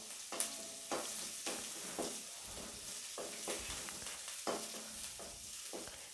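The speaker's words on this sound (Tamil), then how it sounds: "நல்லா வதக்கி விடலாம் பொன்னிறமாக வதங்கணும்" Green chilies and vegetables for a broad bean (avarakkai) poriyal sauté in a hot pan, with a steady sizzle broken by repeated scraping stirs of a spatula throughout, close and fairly loud with no talking.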